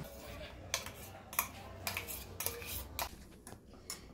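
A spoon stirring soaked chia seeds with milk into a thick paste, giving a series of quiet, irregular clinks and scrapes against the bowl, about seven distinct taps close by.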